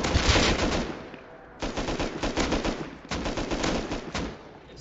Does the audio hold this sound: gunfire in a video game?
yes